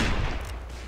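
A massed volley of muskets and cannon in the game Mount and Blade: Warband, a short burst of overlapping shots with a brief rumbling tail.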